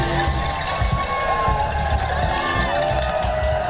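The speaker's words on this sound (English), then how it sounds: "This is not as big a crowd as they'll have later, but still enough to have some noise." Spectators crowd Cry Baby Hill at the 2019 Tulsa Tough Masters A bike race, a moderate roar of cheering and chatter, fairly close, continuous through the moment.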